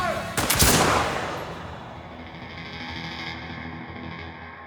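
Gunfire from a scene in the Bollywood police film Class of 83: a loud, close blast with a sharp attack and a long, decaying, effects-heavy reverberant tail that fades over several seconds.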